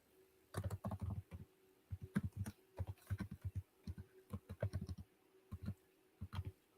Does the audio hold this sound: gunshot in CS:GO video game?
no